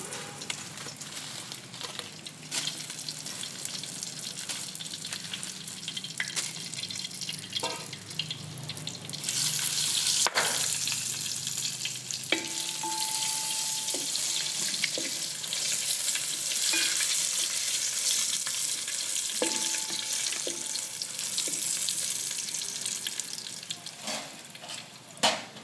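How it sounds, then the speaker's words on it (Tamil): Dried red chillies frying in hot oil for homemade idli podi, a steady soft sizzle with occasional stirring clinks and scrapes, growing brighter and more hissing midway. "நான் வந்து காஞ்ச மிளகாய் இது இந்த எண்ணெயிலேயே போட்டு ஃப்ரை பண்ணி எடுத்துக்கலாம்."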